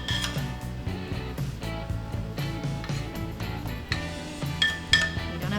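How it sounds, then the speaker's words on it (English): Dishes and cutlery clink and knock as a plate of warm pea puree is set down for butter-poached lobster, with repeated close ceramic taps and light metallic chinks, a couple of sharper knocks near the end. "So we're going to put this down on a plate."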